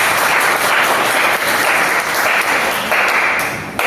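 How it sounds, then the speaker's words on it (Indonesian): Class groups in a classroom break into loud, dense applause that holds steady for several seconds, then fades slightly at the end, with faint voices mixed in. "Tepuk tangan."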